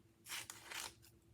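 Scissors snip through paper in two quick broadband cuts, close and fairly soft, over a faint steady hum.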